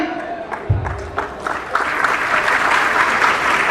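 An audience at a career counselling session breaks into applause, scattered claps at first that swell into loud, steady clapping from the crowd.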